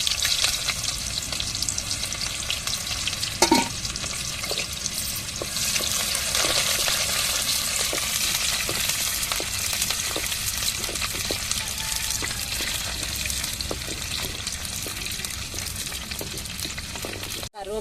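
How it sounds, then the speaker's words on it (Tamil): Oil sizzles and crackles steadily throughout as mustard seeds and onion fry, with small pops and occasional stirring clinks, close and continuous. "இப்போ கடுகு சேர்த்துக்கிறோங்க தாளிக்கிறதுக்கு"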